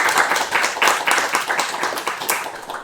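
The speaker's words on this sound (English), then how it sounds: "And I think that deserves a clap." A small audience claps at a game development club meeting, a quick burst of fairly close hand claps with a loose, uneven rhythm that gradually thins out.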